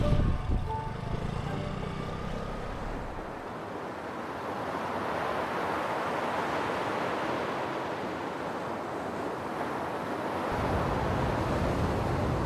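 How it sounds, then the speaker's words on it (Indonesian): Ocean waves break on the shore at Sawarna beach with a continuous broad roar, swelling and easing gently over a long stretch, heard from nearby with wind noise mixed in and no talking. "suara gemuruh dari deburan ombak makin jelas memanggil dari kejauhan"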